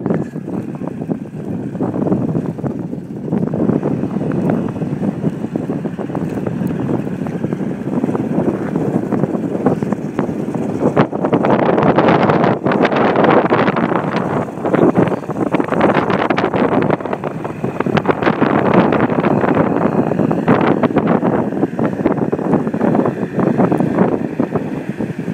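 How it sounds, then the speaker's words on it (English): The 125 hp Force outboard engine on a 1989 Bayliner Trophy boat runs continuously, a rough droning roar mixed with wind buffeting on the microphone, swelling louder in the middle. "showing that the Bayliner, the 125 horsepower force engine works"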